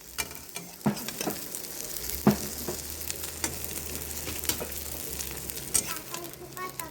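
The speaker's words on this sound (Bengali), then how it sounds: "এখন গ্যাসে একটু তেল দিয়ে ভেজে নিচ্ছি ভালো করে।" Egg omelette frying in oil in a pan on a gas stove, a steady crackling sizzle with occasional louder pops and stirring clicks, heard close with no talking.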